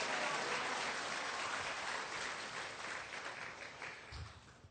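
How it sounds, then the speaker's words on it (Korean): A church congregation applauds as the pastor comes forward at a Sunday service, a steady wash of clapping filling the room that fades slightly toward the end. "목사님 나오실 때에 우리 박수와 함께 할렐루야로 그렇게 환영하겠습니다"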